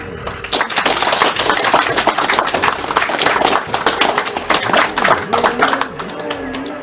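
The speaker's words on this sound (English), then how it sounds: "he deserves a big round of applause" Dense, sustained clapping from a speedrun marathon audience, steady and loud throughout with scattered individual claps standing out.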